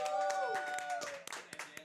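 A small crowd claps for Team Fizzo at a Swiss Dota Cup gaming event in ManaBar, Basel, with scattered, uneven hand claps running beneath a host's continuous talk.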